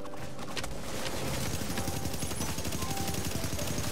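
Rapid automatic gunfire in a PvP firefight in The Division 1.5 with a UMP-45 Banshee, steady and dense bursts filling the whole stretch alongside game noise, with no voices over it.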